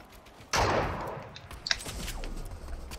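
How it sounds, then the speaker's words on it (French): Gunfire aimed at the player in a first-person video game: one sharp, loud shot bursts in, trailing off, followed by a smaller crack and scattered fainter impacts. "Et là, ça nous a tiré, mais je sais pas d'où."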